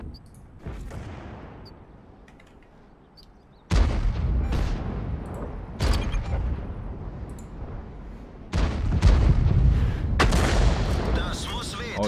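Artillery shells slam down in World of Tanks, heavy booming impacts landing in several bursts with loud low rumbles and crackling gunfire between them.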